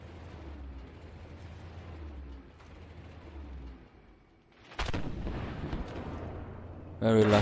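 Tank shell strikes an enemy turret in the video game Armored Warfare, a Leopard 2 A5 firing; a sharp blast bursts out near the middle over rumbling engine and battle noise, with a louder impact near the end.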